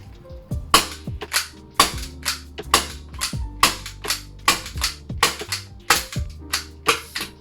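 A Raven gas blowback airsoft pistol with a 48-round GBB magazine fires about a dozen sharp, close cracks in quick, fairly even succession, each shot followed by the snap of the slide cycling.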